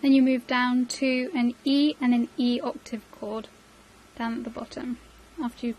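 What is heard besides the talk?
No distinct noise like a dog, phone or traffic.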